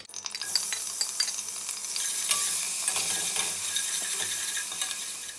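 Crushed ginger, garlic and green chillies fry in coconut oil with a steady bright sizzle, punctuated by light stirring scrapes and clinks in the pan.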